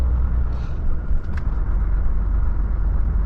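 A Volvo FH 540 truck drives along a road near the Yakutsk ice crossing, its low engine drone and road rumble steady and heavy from inside the cab, with a faint brief rattle.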